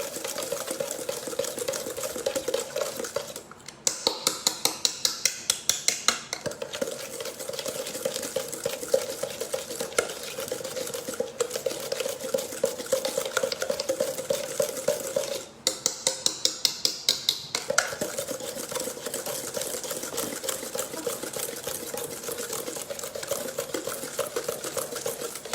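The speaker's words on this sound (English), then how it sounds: "And I will whisk it for another 2-3 minutes so that it gets fully dissolved." A whisk beats butter, vanilla essence and castor sugar in a bowl, giving a fast, steady, close ticking and scraping rhythm that continues for a long stretch, broken by a couple of brief pauses.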